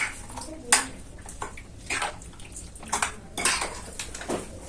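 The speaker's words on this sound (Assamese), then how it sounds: "এইখিনিতে ভালকে মিক্স কৰি লম চিকেনখিনিৰ লগত" Chicken being mixed with ginger-garlic paste and salt in a metal pot: irregular clanks and scrapes of a utensil against the pot, close and fairly loud, with wet stirring in between.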